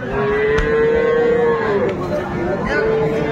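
A cow at the Aftabganj cattle market, where cows are sold with calves, lets out one long, loud, drawn-out moo, then starts a second call, with a faint crowd murmur behind.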